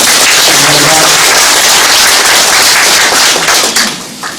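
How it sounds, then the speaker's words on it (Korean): Loud, close applause from a crowd of residents at a city government briefing in Inseong-dong, dense and sustained throughout, tapering slightly near the end. "다 함께 박수로 환영하겠습니다."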